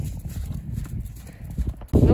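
A horse clip-clops on the ground while being lunged under saddle, with uneven hoof beats close by and people speaking over them, then a louder thud near the end.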